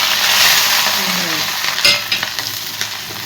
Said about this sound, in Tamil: கருவேப்பிலை இதை போட்டு நம்ம தாளிச்சிக்கலாம். இப்போ கடுகு போட்டுக்கலாம்